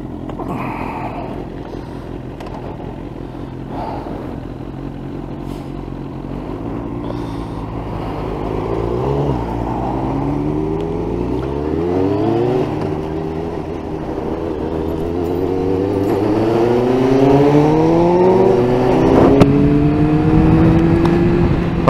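A motorcycle rides along near Loch Lomond, its engine rising through several accelerations with climbing pitch, growing louder and steady toward the end, with no talking.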